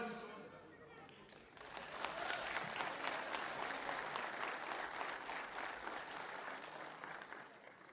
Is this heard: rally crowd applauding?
yes